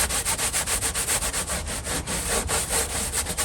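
A scraper drags in quick, even strokes across the hardened old glue on a Magnepan MGI speaker panel, giving a close, rasping, rhythmic scrubbing with no talking.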